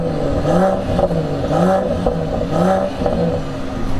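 A Geely 53 car engine revs up and down in repeated swells, its exhaust rumbling and rising in pitch, close and loud with some mechanical clatter.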